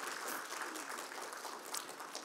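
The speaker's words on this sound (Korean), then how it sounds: "우리 박수로 환영하겠습니다." A church congregation claps in welcome, a dense, steady wash of applause from many hands that carries on evenly throughout and sounds slightly distant.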